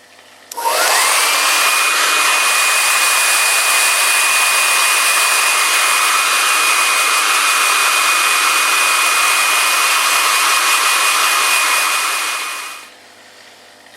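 A hair dryer blows loudly and steadily for about twelve seconds, drying a freshly rinsed part from a Kenwood TS-850S ham radio, with a constant high whine that cuts off abruptly at the end.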